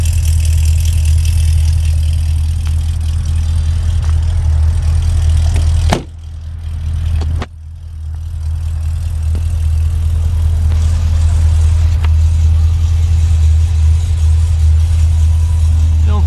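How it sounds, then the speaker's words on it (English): A 2009 Cadillac CTS-V with original mufflers idles loudly with a deep steady exhaust rumble, briefly dipping for about two seconds before settling back to its even burble. "Hear the exhaust."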